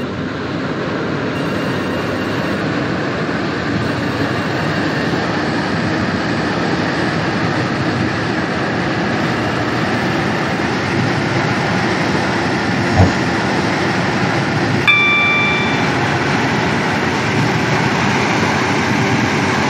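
A Stepford Connect train in a video game rumbles along steadily with a continuous mechanical drone and rolling noise, a brief clunk and a short tonal chime breaking through near the end.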